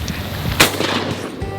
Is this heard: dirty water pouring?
no